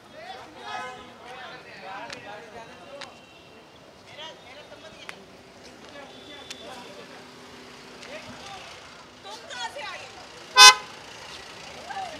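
A car driving past on a street amid voices and background chatter, with a loud, brief horn blast near the end standing out above the moderate traffic and talk.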